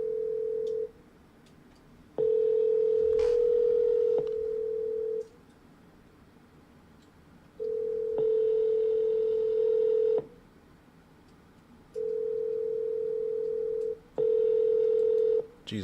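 Telephone ringback tone on an unanswered call: a steady low buzzing tone repeats in long bursts separated by pauses, fairly loud and alone, with no voice picking up.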